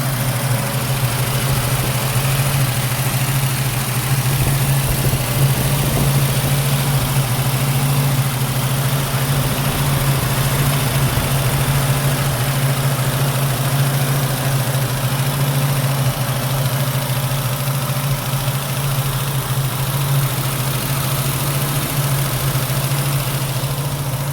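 A 1966 Ford Mustang engine idles steadily after a small adjustment, a continuous low rumble with an even, unbroken drone and slight mechanical hiss, heard close and alone for a long stretch.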